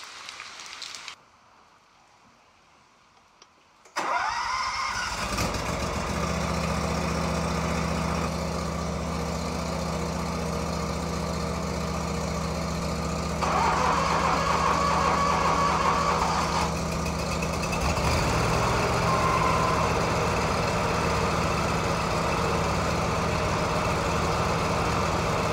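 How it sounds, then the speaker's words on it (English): Two Ferris lawn mower engines start up in an open garage after a quiet moment, then settle into a loud, steady idle that continues to the end. "I'm going to start these two mowers up, let the engines warm up so I can change the oil."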